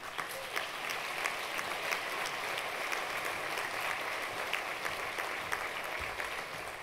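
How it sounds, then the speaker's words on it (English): Steady applause from a conference audience at the 2019 Normandy World Forum for Peace, greeting Nobel Peace laureate Leymah Gbowee; continuous, even clapping with no voices over it. "Applaudissons Lema Gbowi"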